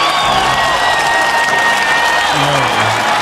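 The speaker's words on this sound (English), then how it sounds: "let's have a round of applause for the first two members" An audience at a launch event for a teaching community breaks into loud, sustained applause, a dense wash of clapping that continues evenly with a few voices mixed in.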